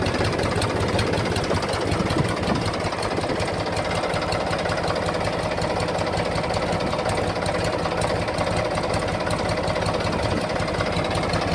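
A 2006 Mahindra 265 DI tractor idles after a self start, its engine a steady, continuous knocking chug that holds loud and close throughout with no voices.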